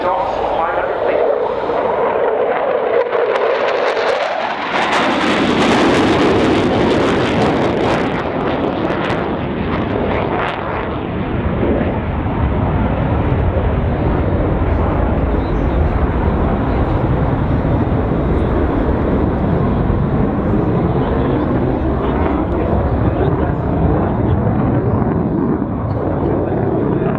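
Sukhoi Su-22 Fitter jet makes a low-level, high-speed show-of-force pass at an airshow, a loud roaring rush swelling quickly and then trailing off into a long rumbling wash with wind buffeting the microphone.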